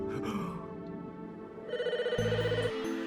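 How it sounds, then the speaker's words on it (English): A telephone rings in the Famicom Detective Club video game, its chiming electronic bell tone repeating steadily over background game music. "The phone, excuse me, let me get it."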